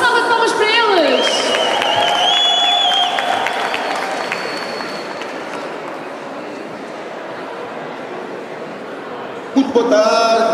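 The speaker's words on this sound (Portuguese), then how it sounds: "Uma salva de palmas para eles." Audience applause for a group at a community festival, a steady dense wash of clapping from a crowd that follows a brief musical tone and fades gradually before a short burst of other noise at the end.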